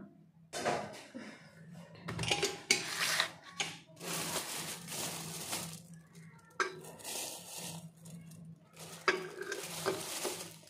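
Raw potatoes being dropped into a pressure cooker in a home kitchen, a string of close clinks, knocks and rattles against metal in irregular bursts separated by brief pauses.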